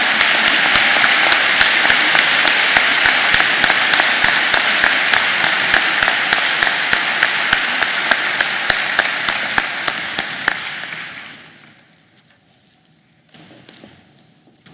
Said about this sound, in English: So round of applause to those students.